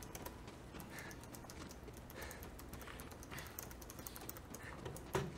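A computer keyboard clatters with quick, light keystrokes in uneven bursts, quiet and close, beside a Borderlands 3 gaming stream setup.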